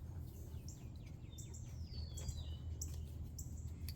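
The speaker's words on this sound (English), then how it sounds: "We got the birds a chirping." Several birds chirp and tweet outdoors, quick high calls and one longer sweeping whistle scattered over a soft low background rumble, fairly faint and distant.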